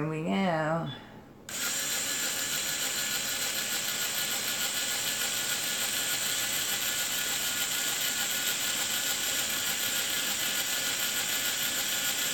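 A drill bores steadily through material, a continuous high-pitched mechanical whine holding an even tone for many seconds after a short spin-up, close and loud, with no pauses.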